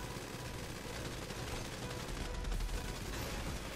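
Dense, rapid gunfire from a GTA 5 shootout with police during a heist, a continuous clattering barrage that stays fairly faint and even throughout.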